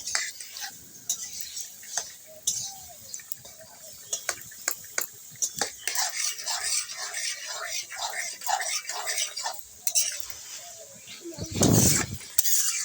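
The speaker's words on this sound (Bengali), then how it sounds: "আলু ফুলকপিটা ভালো করে ভেজে নিচ্ছি নাড়াচাড়া করে" Repeated scraping and clinking of a spatula against a metal wok as potatoes and cauliflower are fried and stirred, with brief speech and a louder clatter near the end.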